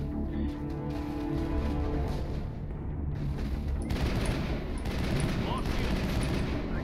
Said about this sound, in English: I can only shoot small bursts before my accuracy hits very, very bad levels.